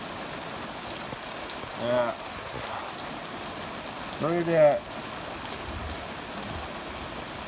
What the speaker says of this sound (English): It's been raining for a while.